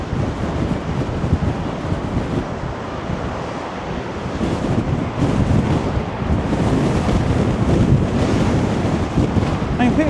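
Rough sea waves crashing along Blackpool promenade in high wind, a continuous loud roar of surf and wind buffeting the microphone, with no voices.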